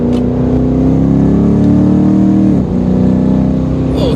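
A custom-tuned red Chevy SS sedan accelerates hard, its engine a loud, close, continuous drone with a brief dip as it quickly shifts from third to fourth gear.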